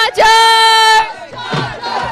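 A crowd at a T20 cricket final at Goregaon Sports Club roars a loud, sustained cheer for the Chargers for about a second, followed by scattered, quieter crowd noise and shouting.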